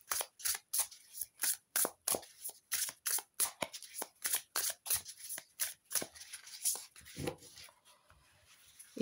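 Tarot deck of stiff, good-quality cards being shuffled, a fast run of crisp riffling slaps and flutters in steady bursts, close and fairly loud, with no talking.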